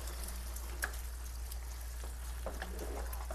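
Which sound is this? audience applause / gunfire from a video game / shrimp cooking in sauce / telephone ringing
shrimp cooking in sauce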